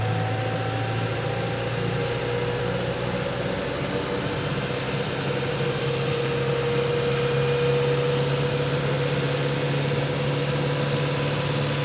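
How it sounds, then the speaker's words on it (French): A tractor holds a steady, loud engine drone as it runs a mower at about 1000 rpm for wrapping work, with a continuous hum and faint whine rising slightly over time and no talking. "je vais accélérer un peu jusqu'à arriver à 1000 tours à la faucheuse"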